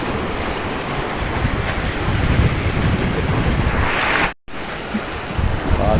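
Strong sea waves pound the Al Mina breakwater in Abu Dhabi in windy, bad weather, a loud continuous roar of surf with heavy wind buffeting the microphone and a brief dropout partway through.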